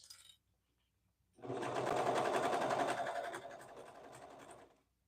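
A serger stitches a seam on a pair of leggings in a steady, close, whirring run of about three seconds, easing slightly before it stops, with no talk over it.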